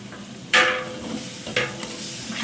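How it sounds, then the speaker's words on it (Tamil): Half a kilo of small onions frying in a pan for Madras-style biryani, with a steady low sizzle and two sharp bursts of louder hissing as they are stirred. "நான் இப்போ வந்து அரை கிலோ சின்ன வெங்காயம் போட்டுருக்கேன்"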